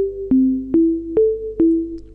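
A synth tone with its XY modulation pushed all the way down on both axes plays a short run of five sustained notes, each starting with a sharp click, moving between nearby pitches, clear and alone.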